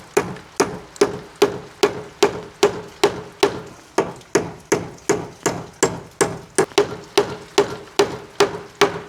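Nails are driven into a small farm structure in steady, evenly spaced hammer blows, about twenty sharp wooden knocks in a row, close and loud, with no talking.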